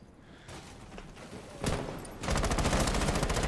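Gunfire in Rainbow Six Siege: scattered shots early on, then a sharp burst and a sustained rapid volley of automatic fire, loud and close.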